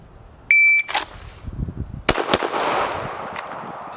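A custom-built Glock G45 pistol fires at a range after an electronic timer beep, with several loud, close, cracking shots spaced unevenly and echoing briefly.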